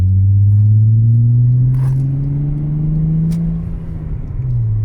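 A 1990s Volkswagen Golf III VR6 Syncro engine runs close by with a steady, deep rumbling drone. It swells slightly and then eases near the end, with no voices over it.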